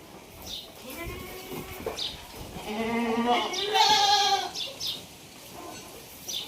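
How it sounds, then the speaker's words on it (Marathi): Local goats being herded into an enclosed shed bleat in overlapping calls, several nearby voices rising to a loud peak midway before tapering to scattered cries. "चला शेळ्या आतमध्ये घालू."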